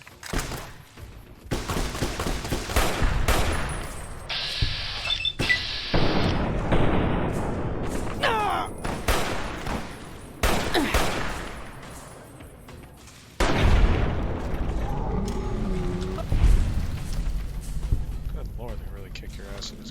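Gunfire in Fallout: New Vegas during the Honest Hearts add-on, with repeated loud shots and blasts scattered across the stretch, some in quick bursts, mixed with a voice talking over the action.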